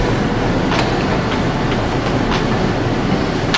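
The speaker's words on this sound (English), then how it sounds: "it's like vents and air stuff going on in here" Air vents blow steadily in a gym room, a loud, even broadband rush that fills the whole clip, with a few faint brief clicks over the constant airflow and no talking.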